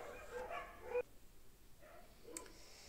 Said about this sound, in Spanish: los perros están ladrando aquí muchísimo